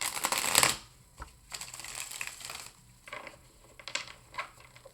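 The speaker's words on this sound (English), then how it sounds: "I don't know why I'm shuffling again" Tarot cards shuffled by hand in a quiet indoor room: a loud riffling burst at the start, then softer intermittent papery flicks and taps at close range, with no talking.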